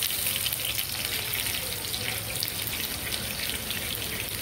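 Ground onion, ginger and garlic paste added to hot oil with crackling fenugreek seeds for Odisha-style fish curry, giving a steady close, hissing sizzle with a watery spatter and no talk throughout.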